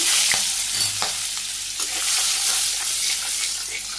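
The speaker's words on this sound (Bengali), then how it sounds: "জিরে দিয়ে দিলাম পেঁয়াজ কুচি" Chopped onion and cumin seeds frying in a pan give a steady close sizzle with a few sharp utensil clicks against the pan, no voices.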